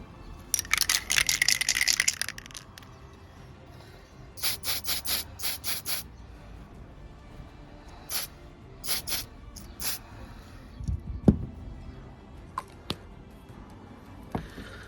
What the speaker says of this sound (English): I'm going to see if the matte spray brings out the likenesses on these figures even more